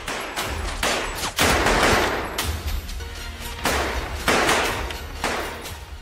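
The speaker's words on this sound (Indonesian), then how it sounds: "terjadilah baku tembak dengan Black" Bursts of film shootout gunfire, sharp heavy shots and thuds in quick clusters, loud and close, with no speech.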